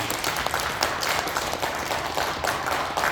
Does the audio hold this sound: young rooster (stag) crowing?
no